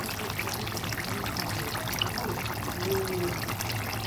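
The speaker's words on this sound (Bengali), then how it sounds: "এক এক করে মাছগুলো দিয়ে দিচ্ছি" Katla fish pieces go one by one into a simmering curry with potato and pumpkin shoots, giving a continuous liquid bubbling and trickling sound at close range, with no talk.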